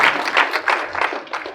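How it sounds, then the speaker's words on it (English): A small audience claps for Leonardo at a Toastmasters ice-breaker speech in Riyadh, a brief burst of steady clapping that tapers off quickly, with no talking over it. "Please give me a round of applause for Leonardo"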